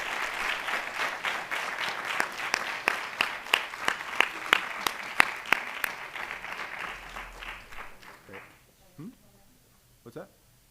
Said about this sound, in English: One more round of applause for our 2025 All-State musicians